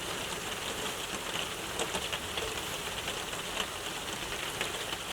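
Steady rain patters on a canvas lavvu tent at a solo campsite, a dense, even hiss of drops with occasional louder taps, continuous and close.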